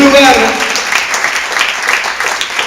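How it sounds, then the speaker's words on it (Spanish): A church congregation breaks into applause, a bright scattered patter of many hands that follows a brief burst of voice and stays fairly loud and steady throughout. "Tenés un aplauso grande para el Rey"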